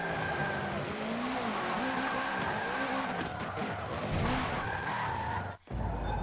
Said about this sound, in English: Actually, I need to do some perfect drifts anyway,